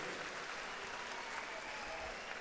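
Sustained audience applause with no music fills the hall at a company's fourth anniversary celebration, a steady, dense clapping that stays even in level from start to finish.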